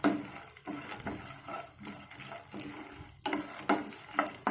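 Spices and green chillies dry roasting in a pan, with soft crackling and intermittent scraping and stirring strokes against the metal, fairly quiet and close.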